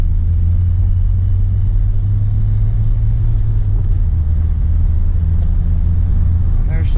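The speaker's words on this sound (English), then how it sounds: "The diesel does get a bit loud at higher revs." A Renault Modus diesel engine accelerating from 0 to 60, a loud, constant low drone and rumble from inside the car that holds steady throughout.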